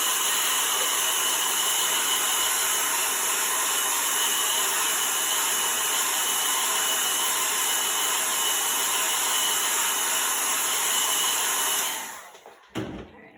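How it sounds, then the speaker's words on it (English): A blow dryer runs steadily at close range, drying chalk paste on a pallet board with a constant loud hiss and whine, then cuts off abruptly near the end, leaving a few brief handling knocks. "Now we're going to use blow dryer again"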